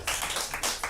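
Audience members clapping at a stand-up comedy show, a short, loud burst of close claps lasting about a second.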